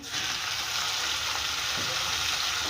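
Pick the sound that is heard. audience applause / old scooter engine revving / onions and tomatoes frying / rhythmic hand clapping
onions and tomatoes frying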